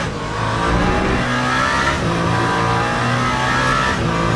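Race car engine in the Le Mans Ultimate video game, a loud, steady mechanical drone with harmonic engine tones held close throughout, the pitch shifting slightly with no clear pause.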